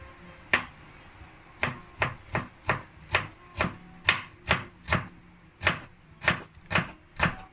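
A knife chops herbs and galangal on a cutting board for Thai larb, about a dozen crisp, evenly paced strikes nearby, each a distinct thud-and-click, with no talking.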